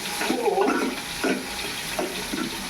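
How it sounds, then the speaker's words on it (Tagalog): Tomatoes sauté in a pan with an onion and garlic base for pakbet, a soft sizzle running beneath several brief stirring scrapes nearby. "Kaya, nagisa yung kamatis."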